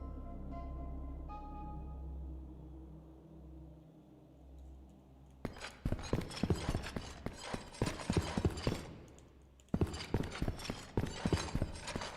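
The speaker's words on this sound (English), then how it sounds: "The horse" Horse hooves clip-clopping in Daggerfall Unity, a steady run of loud, sharp mechanical-sounding clops that starts abruptly partway through after a quieter tonal stretch, pauses briefly, then resumes.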